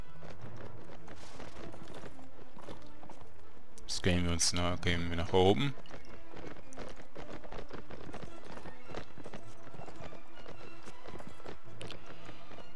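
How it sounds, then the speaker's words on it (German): Horses gallop in the Mount & Blade Warband video game, a rapid clip-clop of many hooves running throughout with a louder burst in the middle, while someone talks over it. "Ja, sie kommen schon, die Pferde."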